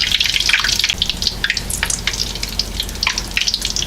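A chili cheese hot dog deep frying in hot oil, close and steady crackling sizzle with sharp bubbling pops throughout, no talking.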